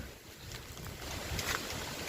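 Strong gusting wind in a mango orchard ahead of light rain, a steady, rushing roar buffeting the microphone with a few louder surges and no voices.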